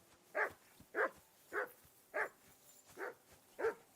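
A dog in the Kingdom Come: Deliverance II video game gives six evenly spaced, mid-distance barks about half a second apart, with no voices over them.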